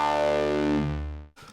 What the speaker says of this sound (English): as I increase this signal level, I get a really nice bit of distortion through this